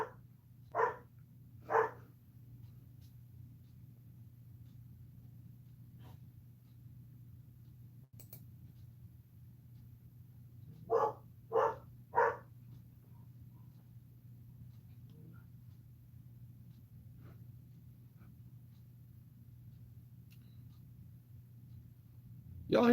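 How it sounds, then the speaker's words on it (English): Dogs bark in a few short bursts, two near the start and a quick cluster of three midway, sounding fairly distant over a constant low hum, with long quiet stretches between. "Y'all hear my dogs?"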